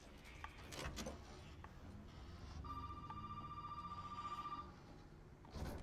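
A telephone rings in the Resident Evil video game, a steady electronic tone lasting about two seconds amid footsteps and rustling game noise.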